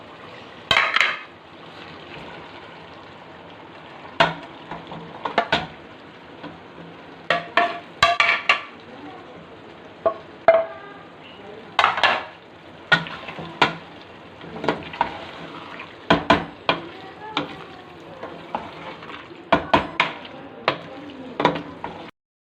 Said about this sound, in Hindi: अब हमने अरबियों को जो फ्राई करके रखा था उसको अंदर डालेंगे और मिक्स कर